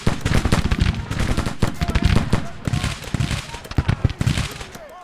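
Rifle gunfire in a Civil War video game: loud, dense volleys of overlapping shots that crack in rapid, irregular bursts, with a few brief pauses between clusters.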